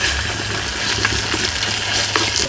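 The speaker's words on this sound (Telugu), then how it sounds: "ఒక 30 ml నీళ్ళు పోసుకుందాం" Water pours steadily into green chilli paste in a pan while cooking a village-style green chilli chicken pulao, a continuous close splashing gush with no talking.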